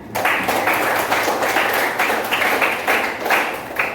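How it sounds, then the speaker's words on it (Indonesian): A room full of people claps steadily for a few seconds, in a dense, even patter of applause. "beri tepuk tangan"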